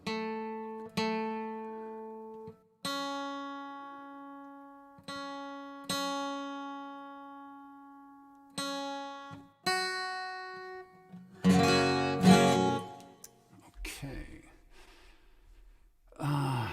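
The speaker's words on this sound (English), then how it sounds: "That is the sound of the guitar when it's just picked up by the microphone" Clean guitar notes and chords picked up by a microphone, played one at a time, each ringing out and decaying, followed by a louder strummed flurry and fading noise.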